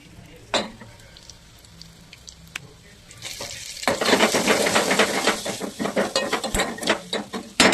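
Spices tempering with asafoetida in hot oil for tomato rasam burst into loud, crackling sizzle midway, after a few sharp clicks, and keep frying busily with popping spatters to the end.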